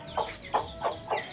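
Chickens at a backyard poultry farm give four evenly spaced clucks, close and clear over a faint, quiet background.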